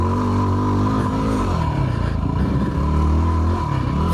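A Yamaha WR250R dirt bike with its stock exhaust runs hard on motocross trails, its engine loud and close with a buzzing, revving drone that rises and falls.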